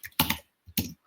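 Keys on a computer keyboard tapped in two short clusters, close and fairly quiet, with a brief silence between them.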